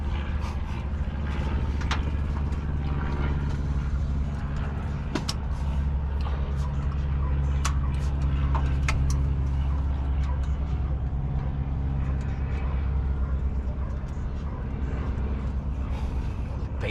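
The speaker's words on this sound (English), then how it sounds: "Airplane's flying low," A low-flying airplane passes overhead near a parked 1984 Dodge D100 pickup, giving a steady, loud broadband roar with a deep rumble that lasts throughout and barely changes.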